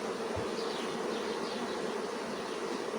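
Honeybees, foraging workers, hum in a dense, continuous buzz around a beehive, steady and close, with no voices present.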